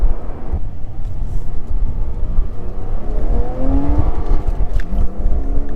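A 2009–2012 Porsche Cayman engine revs and drones steadily while driving, a continuous loud mechanical hum with rising tonal sweeps as it accelerates, no voices over it.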